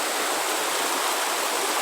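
Creek water in Lamington National Park rushing steadily, a loud, unbroken bright hiss and splash close by, with no voices.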